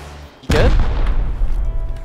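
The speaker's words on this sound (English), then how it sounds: "I'm shooting rockets at them." In the survival game Rust, a rocket fires with a sudden heavy boom and explodes, followed by a rumbling, crackling tail that stays loud for over a second.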